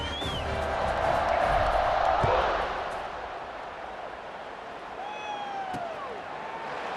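Stadium crowd noise in EA Sports College Football 26 at a kickoff, a loud swelling roar that peaks early then settles into a steady wash of cheering with a few whistles.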